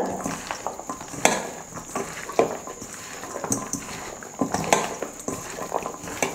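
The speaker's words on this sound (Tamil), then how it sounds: "எல்லாம் சேர்த்து நல்லா கலந்துடுங்க" Wet squelching as chicken is mixed with spices in a bowl, with occasional clinks of a utensil against the side, close by and uneven.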